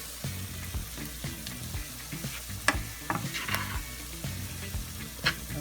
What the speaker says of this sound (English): here I am making my homemade gumbo roux from scratch. So, getting it all nice and brown.